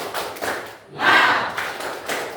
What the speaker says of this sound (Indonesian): Coba sekali lagi, tepuk semangat.